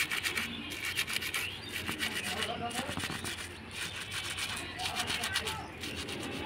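A brush scrubbing an old anklet clean at home, steady quiet rhythmic scratching strokes repeating back and forth, with a voice speaking over it.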